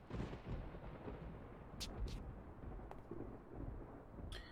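Thunder rumbles low and steady through rain in the video game Yakuza 4 Remastered, a quiet, grainy roll with a few faint sharp ticks and no voices.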